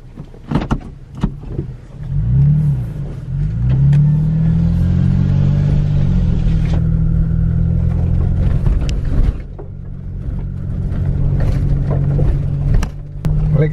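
An off-road vehicle with leaf-spring suspension revs and accelerates over rough, muddy ground, its engine rising and holding a loud mid-range roar amid knocks and clatter, with voices briefly around it.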